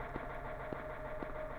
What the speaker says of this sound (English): There's a clanking sound going on, and maybe that's the sound of the generator